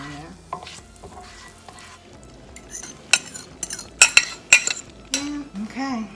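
Veggie omelette egg cooking in a hot pan with butter and a little olive oil: steady soft sizzle, then a burst of sharp spatula scrapes and metal clinks against the pan, close up.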